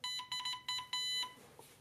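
A Morse code tone near 1 kHz from a superheterodyne radio receiver beats out a rhythmic run of short and long beeps, clean and moderately faint, then stops into quiet hiss.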